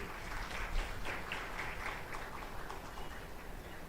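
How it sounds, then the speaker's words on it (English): An audience at an international botany conference applauds its dignitaries, a sustained, moderately distant clatter of many hands clapping together for several seconds. "please have a big round of applause for all our respected dignitaries"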